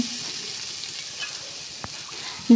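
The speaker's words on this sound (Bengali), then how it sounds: "আমি এবার আলুর ডিমগুলোকে সব দিয়ে দিলাম এর সাথে ভালো করে একটু মিশিয়ে নিচ্ছি" Eggs and potatoes are stirred into fried spice paste, giving a steady soft sizzle with faint scraping and one brief tap, ending in a short louder clatter.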